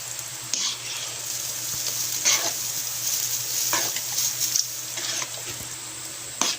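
A chocolate mixture for bakintol, with peanuts, sugar and margarine or butter, is stirred in a pan, the spoon scraping in steady repeated strokes over a continuous soft bubbling hiss.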